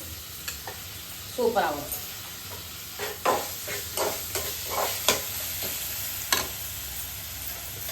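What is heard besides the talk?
tomatoes, mint and coriander sautéing in a pan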